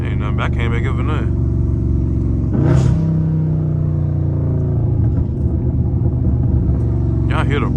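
A Dodge Scat Pack drifting gives a loud, steady exhaust rumble with rough burbling pulses and brief rises in pitch as the engine is revved, close up, with voices talking over it.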